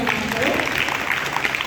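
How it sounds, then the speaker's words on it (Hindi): An audience at an Arya Samaj gathering in Hisar claps to honour a donor, producing a dense, steady burst of applause that fills the short moment with many hands clapping together. "एक बार तालियों से आप भी सम्मान करो"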